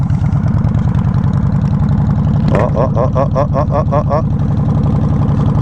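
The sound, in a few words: Yamaha Warrior 1700 motorcycle engine idling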